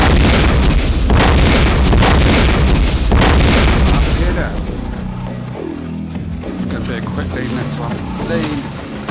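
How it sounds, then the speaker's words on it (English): Missile explosions in the VR shooter Gungrave VR hit as a run of loud, deep booms for about four seconds, then give way to quieter rumbling and lighter game effects. "Missiles do go a long way, it seems. Boom, boom, boom, boom."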